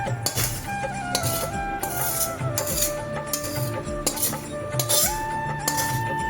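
Seasoned mixture is poured into a bowl of fried chicken for a cheesy chicken garlic sandwich, with a steady run of clinks and scrapes of a spoon against the dish and light clatter of kitchenware.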